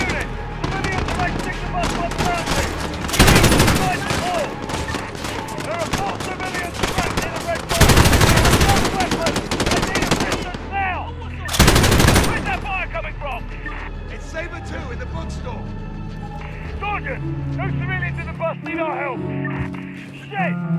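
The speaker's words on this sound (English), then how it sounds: "They're firing on civilians!" Automatic and single gunfire in the video game Call of Duty Modern Warfare, with dense loud bursts of rapid shots and a few heavier blasts, while radio-style voices and shouting talk run over the battle.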